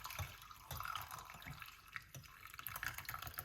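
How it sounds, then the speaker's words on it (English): Moringa tea poured through a strainer into a cup, giving a soft, uneven trickle and splash with a few small drips, quiet and close, with no voices. "get our strainer, pour it off."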